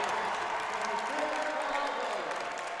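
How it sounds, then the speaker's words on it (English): Light, steady applause from a crowd at a close Penn State versus Ohio State meet in Columbus, a soft continuous patter heard at a distance throughout. "the Penn State players even applauding the Buckeyes"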